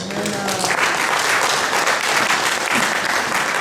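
A church congregation at an evangelical service applauds and cheers the Lord, producing a loud, dense, sustained clapping that fills the whole moment, with voices calling out within the crowd.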